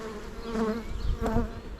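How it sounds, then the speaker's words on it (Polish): A bumblebee flies and buzzes near a beehive, a steady close insect drone that swells louder twice as it passes, with no talking. "Nigdy nie miałem sytuacji, że mnie zaatakował trzmiel."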